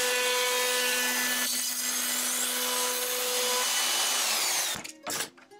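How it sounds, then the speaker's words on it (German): A router mills a contour into a hardwood workpiece for a dry separation toilet, a loud, steady high-pitched whine with a gritty cutting edge that runs for several seconds before winding down and cutting off with a couple of brief bursts. "fräst mir genau die gleiche Kontur in das Werkstück"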